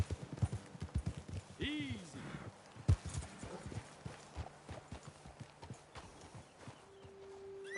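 Horse hooves clip-clop in an uneven walking rhythm close by in the video game Red Dead Redemption 2, with someone speaking softly over them and a brief snort partway through.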